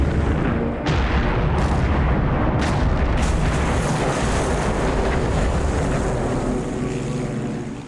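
Torpedo and bomb strikes in a naval war game: a dense, roaring wall of explosive rumble and wash, with several sharp bursts landing over about eight seconds, loud and sustained.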